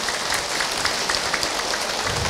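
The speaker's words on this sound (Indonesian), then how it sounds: "Tepuk tangan untuk orang Sukabumi" A crowd at a religious gathering claps for the people of Sukabumi, a dense, even patter of many hands heard close and continuous, with no voices over it.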